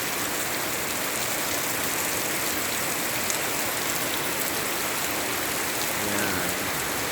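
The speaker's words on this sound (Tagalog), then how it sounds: "Raining na, umuulan na. Tapos grabing lakas ng ulan." Heavy early-morning rain pours down steadily in a dense, even hiss that fills the whole stretch without letup, with no voices over it.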